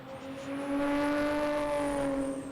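A BMW E46 drift car competing in the street legal class at Slovakia Ring holds a loud, sustained engine rev, its tone swelling and steady for a few seconds as it passes nearby.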